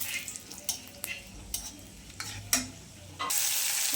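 Cinnamon and cardamom crackle in hot oil left from frying fish, alongside cumin seeds, with sparse spoon stirs and clinks before a louder, steady sizzle bursts up near the end.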